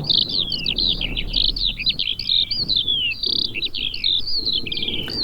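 Skylarks sing in a continuous stream of high, warbling trills and chirps, bright and close, over a low rumble of outdoor background noise.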